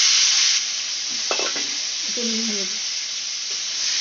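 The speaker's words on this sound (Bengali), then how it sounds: "টমেটো কুচি আছে টমেটো কুচিটা দিয়ে দিচ্ছে" Steady, loud sizzle of chopped tomato frying in hot oil fills the clip, with brief stirring clatter and faint voices underneath.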